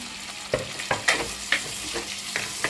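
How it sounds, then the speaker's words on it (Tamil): Onions and crushed tomatoes sauté over a high flame in a clay pot for a fish curry, with a steady sizzle broken by several distinct scraping stirs of the spoon against the pot. "நல்லா வதக்கிக்கோங்க. அடுப்பை ஃபுல்லாக ஃபாஸ்ட்டாக வச்சுருக்கேன்."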